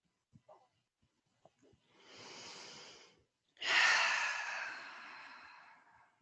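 Slow, deep breaths during a quiet yoga session: a long soft inhale followed by a fuller, louder exhale that tapers off gradually, close to the microphone with a few faint clicks before it.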